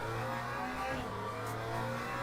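Onboard engine of a McLaren GT3 race car lapping Spa in Le Mans Ultimate drones loudly and steadily, a sustained mid-pitched roar with a brief dip and pitch shift partway through.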